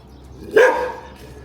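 A single sharp bark rings out from a dog at a village home in Thailand, close and clear against a quiet background.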